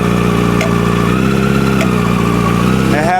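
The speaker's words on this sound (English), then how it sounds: "hit some throttle" A motorcycle engine runs close and loud at a steady rumble, with the throttle blipped into a short rising rev toward the end.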